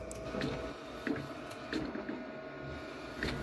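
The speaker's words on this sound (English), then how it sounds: "Now it's printing and you can see it through the glass, or you can lift up the lid." A Procolored K-13 Lite printer works through an image print under a closed glass lid, giving a steady mechanical whir with soft repeated clicks and shuttle thumps at a moderate level, with no voices.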